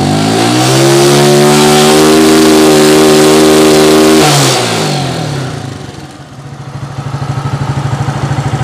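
Motorcycle engine revving hard while its stator output voltage is tested with a multimeter, a loud, close, rising then held high rev that drops back to a lumpy, pulsing idle and climbs again, no talking.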